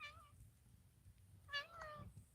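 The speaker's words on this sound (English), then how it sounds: "That's Bobby Cat" A cat meows outdoors at night, two short meows, the second with a quick follow-up, faint against low background noise.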